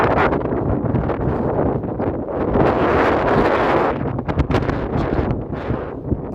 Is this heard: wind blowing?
yes